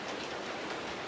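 Steady rain falling outdoors at a hunting spot in South Georgia, a dense, even hiss of drops with no pauses, close and fairly soft throughout.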